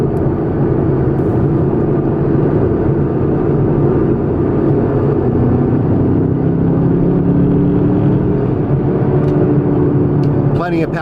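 A 2012 Chevrolet Camaro SS RS with a six-speed manual cruises on the highway, its engine and road noise forming a loud, steady low drone inside the cabin that holds throughout.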